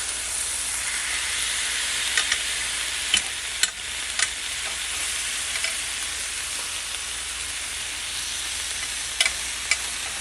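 Steak frying in a pan after being flipped, a steady loud sizzle with sporadic sharp pops and crackles, heard alone without talk.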